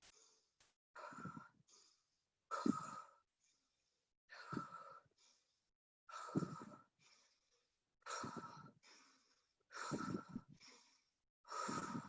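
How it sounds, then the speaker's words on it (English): Slow, deep breaths are drawn in through the nose and let out through the mouth, about six even cycles with pauses between them. The breathing is close and soft. "In through the nose, out through the mouth."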